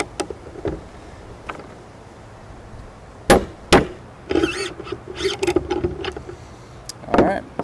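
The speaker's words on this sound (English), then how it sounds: "just going to torque this one more time. Get it snug with the socket." Socket wrench torquing the action of a bolt-action rifle during assembly: a series of sharp metallic clicks and clanks, scattered at first, then bunched ratcheting and scraping sounds, close and moderately loud with quiet gaps between.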